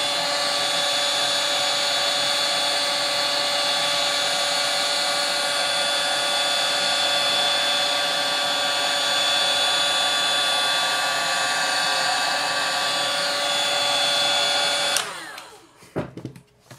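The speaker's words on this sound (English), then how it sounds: "I quite like my little portable heat gun here." A small cordless portable heat gun runs with a loud, steady whine and fan roar, constant and close, then cuts off abruptly near the end, leaving a few clicks and handling knocks.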